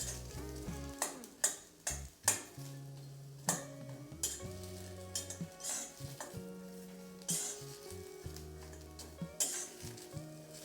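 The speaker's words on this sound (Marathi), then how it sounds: "पहिल्यांदा कांदा व्यवस्थित असा मऊ होईपर्यंत यामध्ये परतवून घ्यायचा" Onion sautés in a pan, giving a soft sizzle broken by clinking spoon-against-pan stirring taps, while steady tonal music plays underneath.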